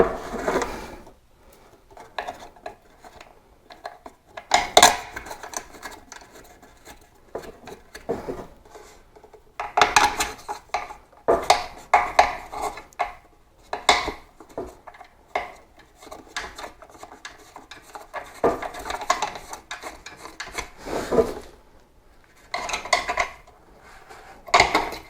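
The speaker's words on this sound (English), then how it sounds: "Now let's just flip it over and we'll do the 4 screws on the top" Intermittent metallic clicks, scrapes and rattles come close up as screws are driven by hand into the top of an SNJ ceiling fan during installation, with quiet pauses between bursts of work.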